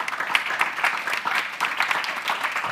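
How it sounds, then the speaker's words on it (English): Audience applause follows a talk on regression methods in experimentation, a short burst of scattered clapping from a small room crowd that holds steady and moderately loud throughout. "A round of applause for me."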